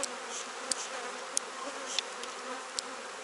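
Honeybees buzz at an open hive during the end of the nectar flow, a continuous close droning hum with a few brief, sharper clicks and bumps breaking through at intervals.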